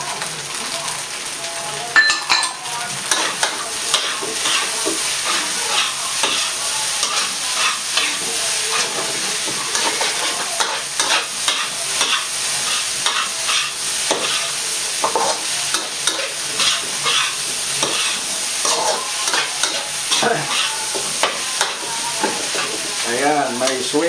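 Shrimp fried rice sizzles steadily in a hot pan as a spatula scrapes and stirs it in a continuous rhythm of clicks and scrapes.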